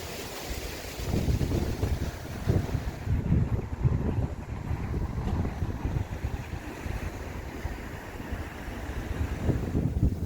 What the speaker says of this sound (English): You can probably hear it is really windy.